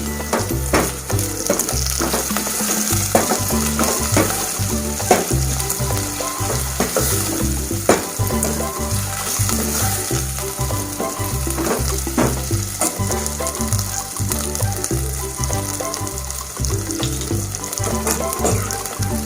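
Curry leaves hiss and sizzle in hot oil with garlic paste for an Andhra-style methi palak pappu, a steady dense frying crackle with stirring clatter running throughout, close and fairly loud.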